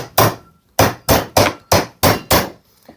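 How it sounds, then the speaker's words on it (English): An old chisel tapped into wood at a nail fixing, heard as about seven sharp, loud hammer strikes in quick, slightly uneven succession, close up with no talk. "You can also use an old chisel, and you just want to tap that in right where the fixing is."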